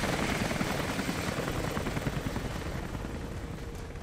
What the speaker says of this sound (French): c'est l'hélicoptère là qui va me tirer dessus là